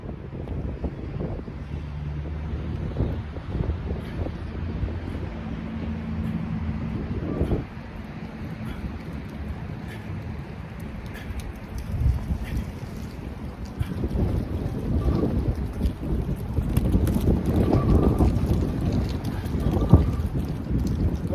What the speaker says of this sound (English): Make sure this wind don't topple over this tripod.